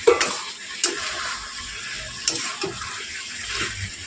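Chicken curry fries in a pan while being stirred, a steady low sizzle broken by occasional scraping clinks of a spoon against the metal, fairly close and with no voices.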